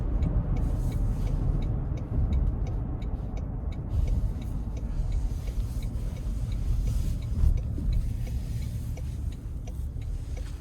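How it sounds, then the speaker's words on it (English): A 2026 Toyota Sequoia Hybrid 1794 pulling onto an interstate in sport mode, heard from inside the cabin as a steady, loud low engine and road roar with faint ticking above it. "Now we're gonna give it a pull getting on the interstate and sport."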